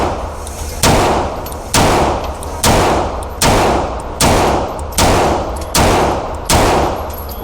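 A Beretta M9A4 pistol firing nine sharp, loud shots at a steady pace of roughly one every 0.8 seconds, each crack followed by a short ringing decay, with no talking.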